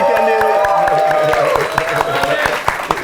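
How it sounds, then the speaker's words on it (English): A podcast studio audience gives a round of applause, steady clapping with some cheering and voices mixed in, loud and close throughout. "Big round of applause."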